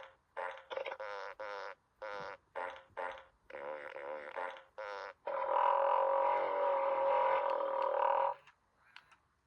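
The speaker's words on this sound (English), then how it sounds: "So that was a fart piano." A Furby toy plays a fart piano: a rapid run of short, buzzy, croaking fart notes in a rhythmic sequence, then one long sustained fart tone like a foghorn, close and alone.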